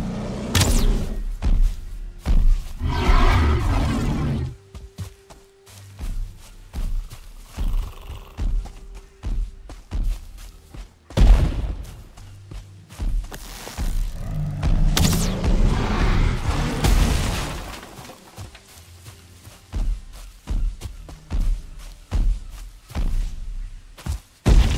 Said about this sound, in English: the sound of those thumping footsteps in your ear, and it sounds like they're like 2 inches behind you